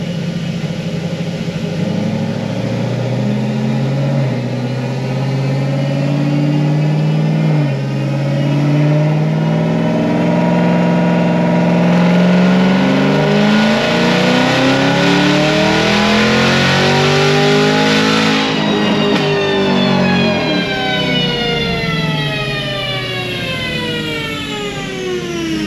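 A supercharged LT4 V8 in a ZL1 roars on a dyno in one long continuous pull, the engine note climbing steadily through the gears and holding loud and close, with no talking.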